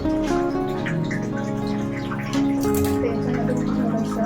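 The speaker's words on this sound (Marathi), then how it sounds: "आता आपण यामध्ये थोडं गरम पाणी टाकूया." Hot water is poured into a pot of misal curry in a home kitchen, giving a steady splashing pour that runs throughout with a brief surge midway, close and fairly loud, with faint speech.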